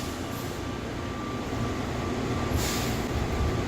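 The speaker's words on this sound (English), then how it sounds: "Welcome aboard the plane train. Please hold on. This train is departing." Steady rumble of the Atlanta airport plane train departing, a continuous rolling rail hum with a faint tonal whine throughout and a brief rise in hiss near the end, heard close from inside the car.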